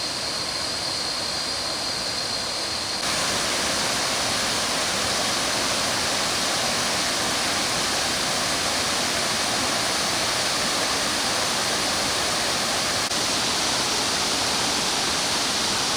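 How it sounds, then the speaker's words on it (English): Kuang Si Falls at the start of the rainy season pours clear turquoise water in a continuous broadband rush. It stays loud and unbroken from start to finish, with no talk. "Good to see there's a bit of water running."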